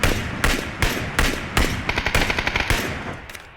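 Loud automatic gunfire in the battle royale game PUBG, with several heavy shots followed by a rapid burst of evenly spaced rounds, close and alone.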